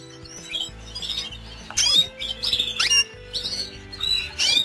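Canaries in a breeding cage chirp and twitter close by, with repeated bright calls and short trills in bursts over a low background hum.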